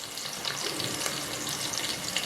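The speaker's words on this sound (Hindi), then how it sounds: "हमने इसके अंदर लहसुन तो हमने ये इसमें डाल देना है और आंच आपने हल्की रखनी है" Garlic frying in a pot of oil over low heat for beef pulao, a steady close hiss and sizzle with no voices.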